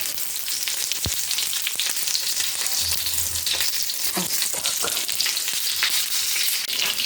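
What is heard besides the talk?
frying in a cast-iron pan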